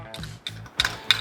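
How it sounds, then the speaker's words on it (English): A ratchet snugs down the factory muffler clamp on a slip-on muffler for a Harley-Davidson Pan America, giving four close, crisp clicking pulls in quick succession with no talking. "We're gonna go ahead and snug down our clamp"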